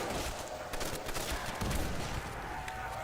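Gunfire in Call of Duty Zombies on the Der Riese map, a dense, steady run of shots and game noise that fills the whole stretch without pause.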